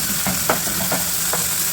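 Carrot and onion stir-fry in a hot pan for pancit guisado, with a steady sizzle and several quick scraping stirs close by.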